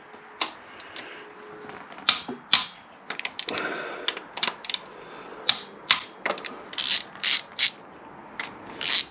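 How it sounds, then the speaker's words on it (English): Bolts being loosened from the camshaft bearing caps of a Honda VFR800 VTEC engine, close and loud with rapid ratchet clicking in repeated bursts and metallic taps of tools against the cylinder head. "I'm going to remove the two forward bearing caps first"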